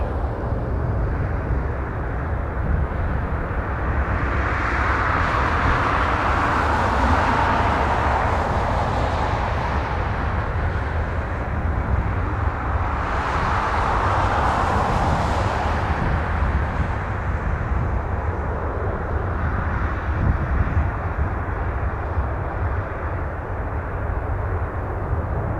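A Jazz Embraer 175 jet arriving from Houston roars at an airport, a long broad engine rumble with two swelling passes, distant and steady throughout.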